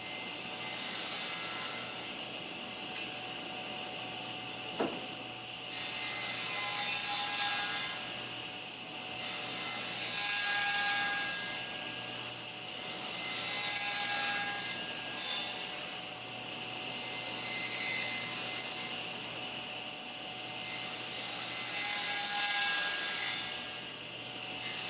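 Wood boards are hand-sawn into 18-inch lengths for a kiln's box frame, in steady rasping strokes that come in repeated bursts with short pauses between, close and clear with no talk.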